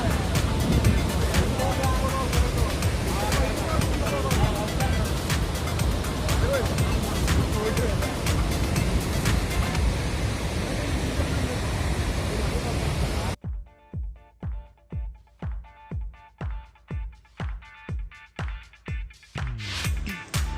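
Steady broadband roar of rushing water at the top of Athirapally waterfall in Kerala for most of the stretch, then it cuts off to a series of short rhythmic bursts.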